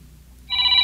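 A cellphone begins ringing about halfway through, a loud electronic ring tone that stays bright and steady until the end, following a brief quiet stretch with no talk.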